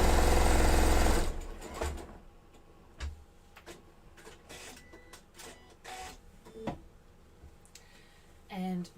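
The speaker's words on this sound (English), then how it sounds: "So what I'm going to do is stitch that seam together." A sewing machine stitches a bias-style seam on an embroidered denim storage bag: a loud, fast, dense run of needle ticks for about a second, then it stops and only quiet handling clicks and faint taps follow.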